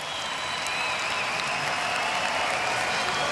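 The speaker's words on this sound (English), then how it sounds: "And the crowd love it." A boxing crowd at the 2006 Commonwealth Games in Melbourne applauds the winner after the final bell, a dense, even roar of clapping and cheering that holds steady for a few seconds.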